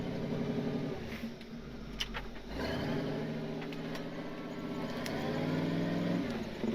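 A Toyota Tundra stuck on a frozen lava flow revs its engine hard while backing out, a loud, steady low drone that rises and falls, with a brief bump and a surge near the end.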